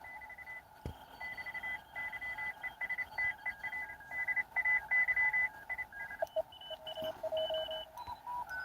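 Morse code CW on the 10 meter amateur radio band: steady keyed tones in dots and dashes come through a receiver, clear and continuous, with varying pitches from different signals and no talking.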